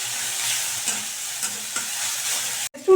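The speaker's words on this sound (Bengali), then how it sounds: "এই সমস্ত কিছুকে দিয়ে খুব ভালো করে আমি মিশিয়ে নিচ্ছি" Mashed fish mixed with cumin and turmeric powder makes soft, close wet stirring and faint sizzle-like hiss, with a few light scrapes before a brief pause near the end.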